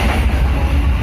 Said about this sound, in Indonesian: Kereta api ekonomi